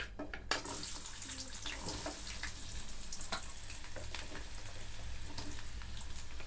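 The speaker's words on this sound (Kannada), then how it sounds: "ಈ ಉಳ್ಳಾಗಡ್ಡಿ ಸ್ವಲ್ಪ ಭಾಳ ಹೊತ್ತು ಫ್ರೈ ಮಾಡ್ಕೋಬೇಕು" Onions frying in hot oil in a home kitchen for a palya, a steady dense sizzle running unbroken throughout, close and fairly loud, with occasional light clicks of a utensil stirring the pan.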